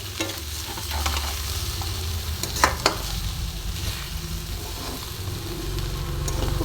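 Spinach with coconut, peanuts and bori being gently stirred in a pan over low flame, a continuous close sizzle with soft, repeated scraping strokes and a couple of sharper utensil clicks.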